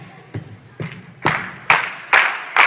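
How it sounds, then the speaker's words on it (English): Hands clapping in a steady, building rhythm before a gospel song, six sharp claps roughly half a second apart, growing louder and brighter with each beat, with no talking over them. "I want y'all to clap your hand like this"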